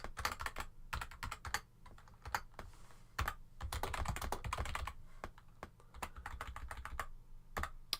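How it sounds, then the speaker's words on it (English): Rapid typing on a computer keyboard, close and fairly quiet, a steady stream of crisp key clicks with brief pauses and a few heavier strokes, no talk. "Type too fast."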